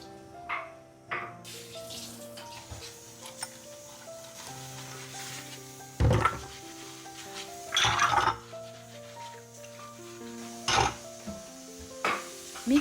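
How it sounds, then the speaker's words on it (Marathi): Ceramic crockery washed by hand at a kitchen sink, with scattered clinks and knocks of dishes against each other and running water, fairly quiet under soft background music. "मी आता ही सगळी सिरामिकची भांडी वॉश करून घेते."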